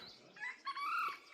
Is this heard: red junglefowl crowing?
yes